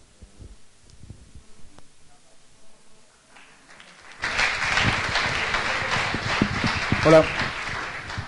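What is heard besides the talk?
audience applause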